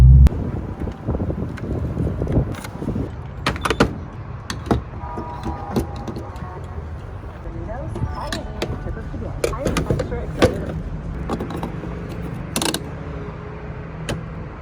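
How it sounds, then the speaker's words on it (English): A drift car cruises along a highway with steady road and wind roar from inside the cabin, and occasional knocks and rattles come through while people talk over the drone. "We're just cruising on the highway back to Florida."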